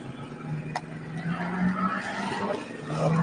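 Rally car 18 drives past on a hill stage, its engine note rising and falling with a brief sharp tire noise, heard from a distance with wind and crowd murmur around it.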